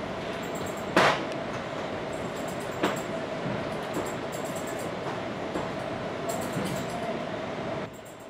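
The Coast Starlight passenger train departs a station, rumbling steadily with a constant hum and occasional metallic clanks and hisses, faint background murmur throughout.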